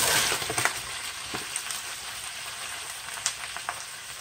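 Mushrooms hit a hot pan where chicken marsala is being cooked, giving a soft, hissing sizzle with a few light clattering bumps as they land. The frying settles into a quieter, steady crackle.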